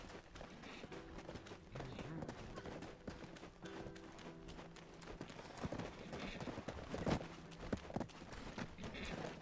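Horse hooves clip-clop steadily while riding through the Black Desert video game world, a continuous trotting rhythm mixed with game ambience and faint background music.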